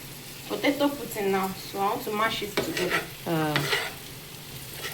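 Potato and green pieces fry on a stove over low heat, with a soft sizzle and intermittent stirring scrapes while someone talks over it.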